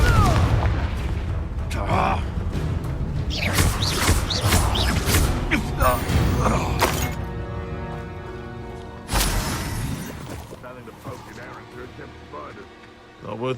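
Confringo fire blast spell explosions in Hogwarts Legacy, several loud booming bursts and crackling impacts amid battle noise, with a voice shouting spell names between blasts.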